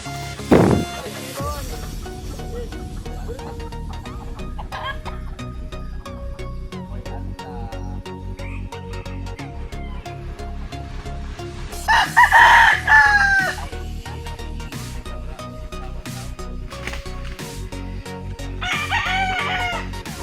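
A rooster crows loudly over steady background clucking from several chickens, with a second, fainter crow near the end.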